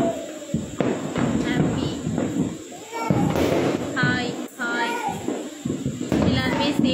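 Firecrackers burst outdoors during Diwali celebrations, several sharp thumps and pops scattered irregularly among children's voices and people talking nearby.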